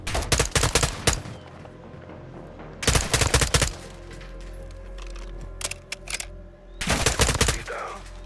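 Weapons fire in Call of Duty: Modern Warfare II while a warehouse is cleared, with rapid automatic bursts in three loud clusters separated by quieter stretches of ambient hum and faint shots.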